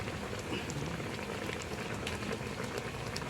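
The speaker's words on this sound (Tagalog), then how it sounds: "Pakuluin lang po natin na siguro mga 15 minutes at okay na po siya" Chicken adobo with honey and a little vinegar simmers in a pot with a steady, even bubbling crackle that holds throughout, close and moderately loud with no one talking.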